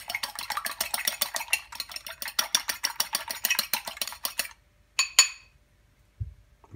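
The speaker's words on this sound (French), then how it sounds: "je vais battre un œuf. Un œuf entier." A whole egg whisked briskly in a bowl with a fork for pastry glaze, giving rapid rhythmic clinking strokes for about four seconds, then a couple of isolated taps and a soft thump, close and clear with no talk.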